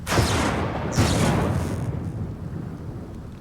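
Thunder rumbles through a video game storm: two loud, close crashes in quick succession, each rolling off into a long, deep rumble with no talking over it.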